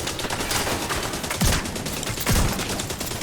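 Shotgun fire in The Division 2 amid constant loud combat noise, with two heavier booming blasts standing out about a second apart.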